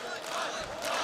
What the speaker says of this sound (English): And you can hear the crowd in the background as well.